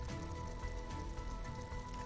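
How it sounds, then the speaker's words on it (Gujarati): Light, gentle rain falling in Veraval town, Gir Somnath, a faint, even patter on surfaces under a low steady hum, continuous throughout. "ગીર સોમનાથના વેરાવળ શહેરમાં ધીમી ધારે વરસાદ પડ્યો હતો।"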